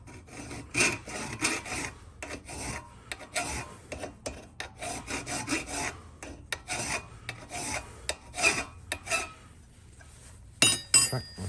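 Close, rhythmic rasping strokes of a file shaping a small chamfer on a barrel key cut from a bit key for a Dutch furniture lock, in quick bursts with brief pauses and a faint clink near the end.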